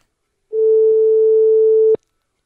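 A telephone call tone sounds once as a single steady beep lasting about a second and a half, clear and alone against silence.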